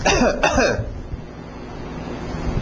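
A voice imitates a cough, two rough bursts early on, then a low, noisy rumble like wind or surf fills the rest.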